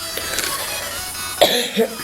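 A single short cough from someone who says they are a bit ill and chilled, close and fairly loud, following a faint quieter stretch, with a smaller throat sound just after.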